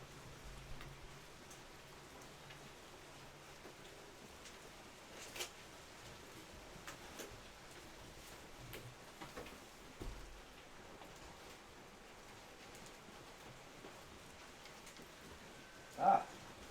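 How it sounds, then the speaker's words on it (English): Hail falling outside a building, a steady broadband patter like heavy rain on surfaces, fairly faint and continuous with a few louder knocks, one sharper hit near the end. "Oh crap, it's hailing."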